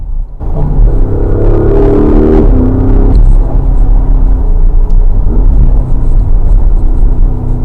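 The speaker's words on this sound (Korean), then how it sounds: "악셀레이터 밟을 때 들어오는 머플러 사운드는 정말 좋습니다" A 2024 Porsche Cayenne S accelerates under way, its exhaust giving a loud, continuous deep rumble that swells and shifts in pitch as engine speed changes, heard from inside the car with no talking.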